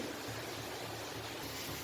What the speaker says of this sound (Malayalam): ഇപ്പോൾ നോക്കി നമ്മുടെ വെള്ളം നല്ലപോലെ തിളച്ചിട്ടുണ്ട്